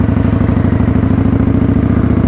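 A motorcycle engine runs close and loud with a rapid, even pulsing throb and no clear change in pitch, with no talking.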